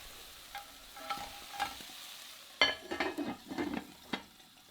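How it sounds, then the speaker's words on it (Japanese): Lobster cooks in a covered cocotte, sizzling and frying softly as it is stirred and turned, with scattered scraping and clinking knocks growing livelier partway through. "この時オマールを、表裏反対にしてもう一度蓋をして火を入れていきます。"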